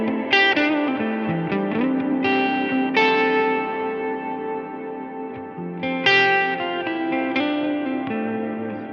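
An electric guitar plays chords and single notes through a Line 6 Helix with a dark, heavy reverb on a long decay and high mix. Each attack blooms into a thick, lingering wash of sound with no gaps between phrases.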